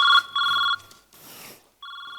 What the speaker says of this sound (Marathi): इथे आले आता कोणाचे फोन